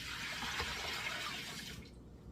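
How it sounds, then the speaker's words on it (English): Whey from homemade farmer's cheese pours out in a steady, soft splashing stream close by, then stops abruptly near the end. "let me dump out the whey"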